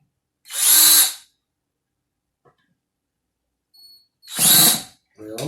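A handheld power drill whirring in two short, loud bursts about four seconds apart, with quiet gaps between and a brief voice at the end.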